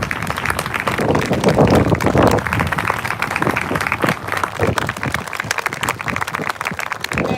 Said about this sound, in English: Ladies and gentlemen, applaud these brave families.